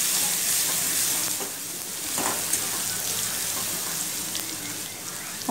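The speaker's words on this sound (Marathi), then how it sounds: "मोहरी, जिरे, हिंग आणि वाटलेली हिरवी मिरची आणि लसूण जे आहे ते त्यामध्ये घालून घ्यायचं आणि मंद गॅसवरती थोडं वेळ परतून घ्यायचं" Mustard seeds, cumin, asafoetida, ground green chilli and garlic sauté in oil over a low flame, giving a steady, close sizzle that hisses on without a break.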